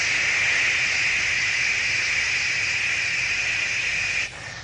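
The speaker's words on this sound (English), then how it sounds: "white noise is wide spectrum sound" Steady white noise, a broad, even hiss that holds constant and loud for several seconds, then drops slightly in level just before the end, with no voices.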